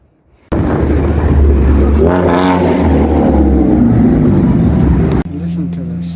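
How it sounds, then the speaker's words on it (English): A Lamborghini Urus engine revs loudly nearby on a city street, a deep rising and falling roar that holds for about five seconds, then drops to a lower steady drone. "Listen to the sound of that Lamborghini."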